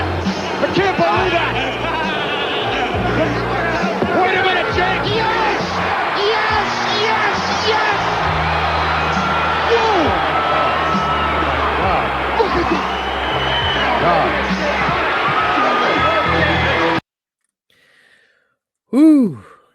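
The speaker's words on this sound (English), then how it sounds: "that crowd reaction, Jake, that was something." A wrestling arena crowd roars with sustained cheering, yelling and whooping, a loud dense wall of voices that cuts off abruptly near the end, followed by a brief burst of a close voice.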